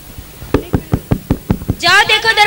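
Eight sharp knocks on a door in a quick, steady rhythm, loud and close, followed by a voice speaking.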